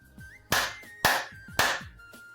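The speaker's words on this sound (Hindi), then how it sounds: "ताली दीजिए" Three sharp, close hand claps land at even intervals about half a second apart, each ringing briefly against a quiet background.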